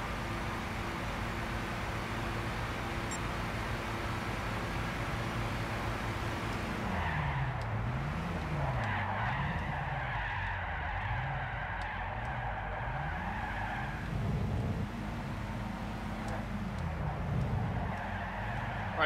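Gran Turismo 6 race cars in a one-make Prius race drone under a steady engine tone, then pitch up and down in wavering sweeps as tyres squeal through corners.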